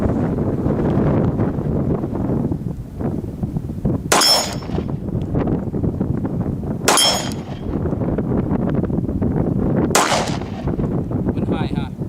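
Three loud, sharp reports from a Ruger SR1911 Commander pistol fired at 20 yards, spaced a few seconds apart, each with a ringing crack over steady outdoor wind noise.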